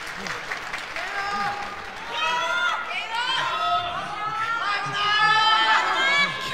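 Crowd cheering at a pro wrestling match in Sendai between Kenoh and Hijo del Dr. Wagner Jr., a loud roar of voices swelling and rising under excited commentary from a male announcer.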